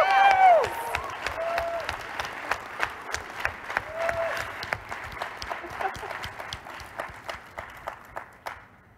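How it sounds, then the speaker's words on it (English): Applause and scattered cheers for a conference program committee, starting with a loud burst and then a steady, dense clapping from a large audience that slowly fades, with a few shouts early on. "Okay, 3, 2, 1, we're gonna clap again. Like, real round of applause for program committee."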